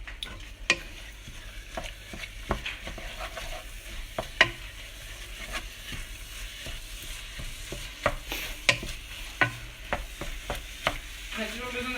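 Gyoza dough fries in a hot pan, giving a steady sizzle broken by sharp crackles and pops along with scraping and stirring, close and clear with no talk.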